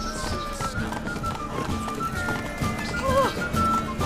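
A horse gallops with steady clip-clop hoofbeats and a brief whinny in The Witcher 3 video game, mixed over continuous game music and ambience.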